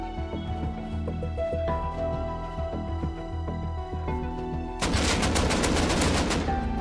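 AK rifle fire in the survival game Rust cracks out in rapid automatic bursts over other game noise, then swells into a dense, loud barrage of overlapping shots near the end.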